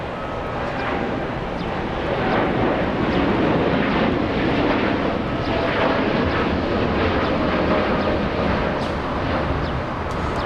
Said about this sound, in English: there goes Air Tahiti Nui flying to Paris